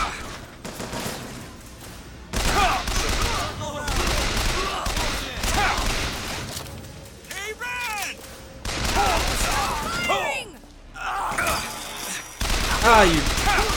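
Bursts of rapid video game gunfire, volleys and single shots, coming in loud waves with short gaps between them, with some brief calls mixed in.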